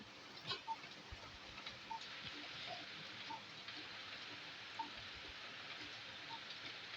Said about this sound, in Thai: ตอนนี้ฝนตกจ้ะ